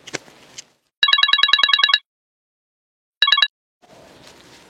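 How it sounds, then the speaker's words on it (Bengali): A telephone rings with rapid electronic trilling bursts, one long ring then a short one after a pause, loud and close, framed by faint rustling. "জ্যাঠা ফোন।"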